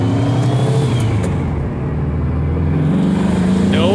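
A car engine with an IDF hesitation fault revs up under acceleration, its steady drone rising in pitch toward the end, loud and close.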